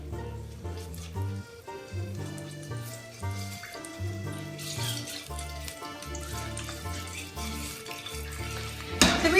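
Onion and celery sizzle in a pan alongside about twenty meatballs, a steady moderate frying hiss that sits beneath louder tonal music playing throughout.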